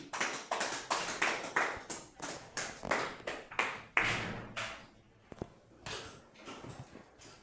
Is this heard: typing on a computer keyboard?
no